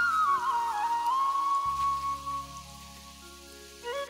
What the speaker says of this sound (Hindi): आज फिर से हल्की हल्की बारिश शुरू हो गई है